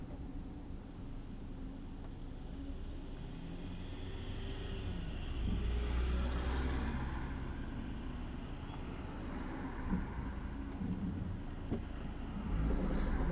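A car pulls away along a road in a quiet, low rumble, the engine note swelling gently around the middle and again near the end, heard from inside with no talk.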